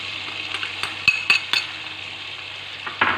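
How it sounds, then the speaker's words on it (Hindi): Spices are stirred into dal frying in a pan: a soft continuous sizzle carries several quick scraping strokes of a spoon against the metal, near and clear. "इसको अच्छी तरह मिक्स कर लेंगे मसाले को"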